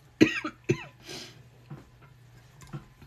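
Two sharp coughs close to the ear, followed by a breathy exhale and a few faint, quieter sounds.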